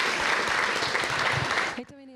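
Audience applause at a youth seminar of a faith convention, a dense loud burst of clapping that cuts off abruptly near the end, followed by a brief voice.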